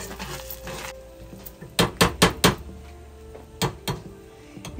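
A utensil clanks and scrapes against a pan while crushed onions are mixed in for a pepperoni, bacon and mushroom pizza, loud sharp hits landing in quick bursts of four, then two more, over a faint sizzle.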